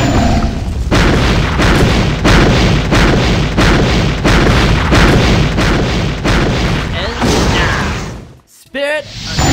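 A loud, sustained barrage of booming blasts from a spirit attack in the fighting video game Rumble Fighter, pounding in rapid succession before cutting off abruptly, with a voice briefly heard.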